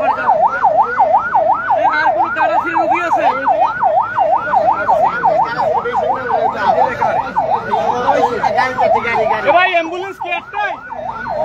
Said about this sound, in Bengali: অ্যাম্বুলেন্স একটাই, এই একটাই অ্যাম্বুলেন্স।